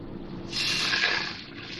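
Water poured from a cup to make a flour paste for naan in a home kitchen, a short, soft splashing pour rising midway and easing off, heard alone and fairly close.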